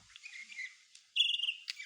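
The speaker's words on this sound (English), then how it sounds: "Do you hear the birds?" Birds chirp outdoors in short, high tweets, faint at first, then a brighter, closer burst of rapid calls near the end, with no talking.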